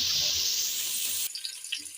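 A short gush of water pours steadily into a pan of frying green chillies and tomatoes for radish curry for about a second, then cuts off, leaving faint clinks and quiet.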